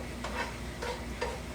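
Keto étouffée sautéing in a pan gives a steady low sizzle, with three soft stirring scrapes spaced roughly evenly through it.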